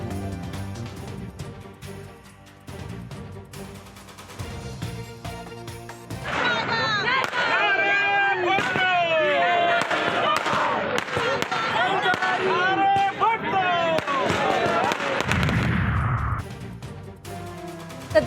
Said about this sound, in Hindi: डी चौक पर आतिशबाजी का मुजाहरा।